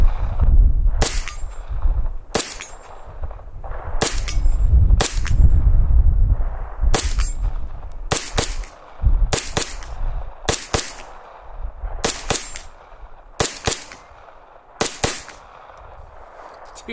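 Sharp, loud 9mm gunshots from hand-loaded Lehigh Defense 90 grain Extreme Defense rounds crack out one by one, about a dozen with irregular spacing, some in quick pairs, each trailing a short ringing echo.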